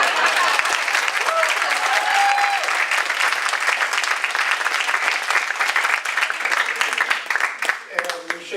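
An audience applauds at a Democratic gubernatorial primary candidates' forum at UM Machias: sustained, dense clapping from a sizable crowd, loud and steady before thinning slightly near the end.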